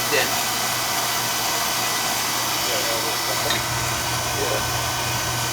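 A gas furnace burner lights and runs on a no-heat service call. It makes a steady, loud roaring hum with a low drone underneath, and a voice is faintly heard nearby.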